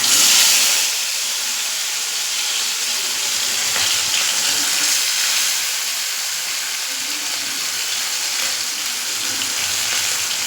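Fish coated in ground masala fries in a pan with a steady, bright sizzle and hiss that is loud at first and then settles, with faint stirring noises and no talk.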